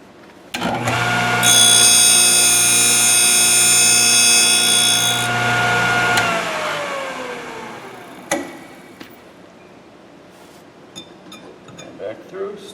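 A Thorvie AV-40 sharpening machine spins up with a steady high-pitched whine as it sharpens a router bit. The whine winds down after about six seconds and is followed by a few faint clicks and handling noises.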